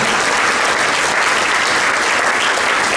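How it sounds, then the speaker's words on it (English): Audience at a Holocaust Remembrance Day event applauding, a dense, sustained burst of clapping from many hands, loud and close, with no voices over it. "So I'll applaud him."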